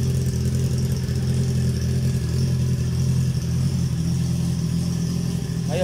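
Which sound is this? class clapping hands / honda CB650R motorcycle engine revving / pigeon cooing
honda CB650R motorcycle engine revving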